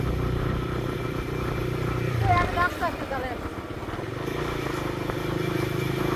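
A motorcycle ridden gently in third gear at about 30 drones steadily and close by, its low engine note continuous with a brief murmur of voices partway through.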